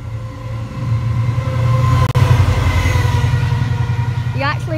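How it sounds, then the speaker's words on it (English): A freight train rolls past at a station, loud low rumbling and wheel noise with a sharp clank partway through and a brief squeal near the end. "we just heard the fast train announcement, so we've got a freight coming"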